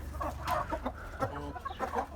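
Ispenç hens cluck in short, broken bursts inside a coop, close and fairly loud with several overlapping birds and no talk.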